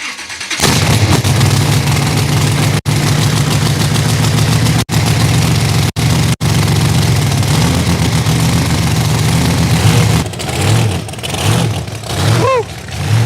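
Hot rod T-Bucket Roadster engine fires up and runs loud and close, a steady rumbling idle broken by a few brief cuts, then revs rising and falling near the end.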